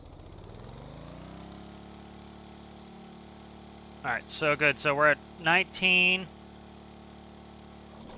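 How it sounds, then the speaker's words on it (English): A tugboat engine in the Stormworks game drones steadily and loudly, its pitch climbing early and then holding as a sustained whine, while someone talks briefly over it midway. "So you hear the engine scream."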